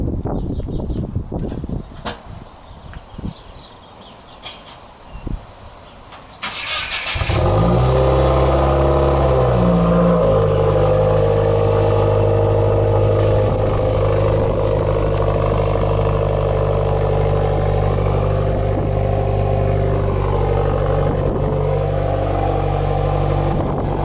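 Cold start of a 2015-2017 Subaru WRX with a muffler-delete exhaust: faint handling noises, then the engine cranks and catches into a loud, steady, rumbling idle close by that continues without talk.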